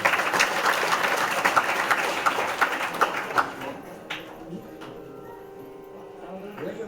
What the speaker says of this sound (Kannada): ಸ್ವಲ್ಪ ಚಪ್ಪಾಳೆ ಹಾಕ್ಬೇಕು